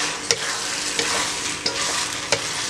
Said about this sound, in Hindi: अब मैं इसमें फ्राई किए हुए चने डाल रही हूँ। अच्छी तरह से आपने इनको मिक्स कर लेना है।